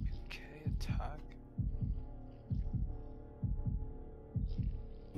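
Heartbeat in the horror video game Shadow Corridor: five loud, deep paired thumps at a steady, roughly one-second pace, over a low throbbing hum and faint game ambience.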